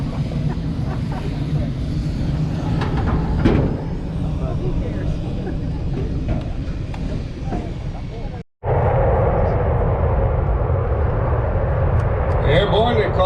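Blue Angels jets of the US Navy taking off at an air show at Pensacola Naval Air Station, a loud sustained roar of jet engines with wind buffeting, a brief dropout, then the roar continuing strongly.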